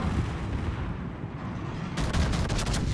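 Secondary guns of the battleship Massachusetts B firing in World of Warships, a rumbling low barrage topped by a run of sharp, closely spaced reports in the last second, loud and without voices.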